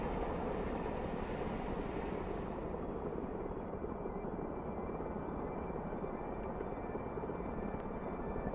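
Chinook helicopter in the Broken Arrow war video game, its heavy rotor and turbine drone steady and loud throughout, with no one talking.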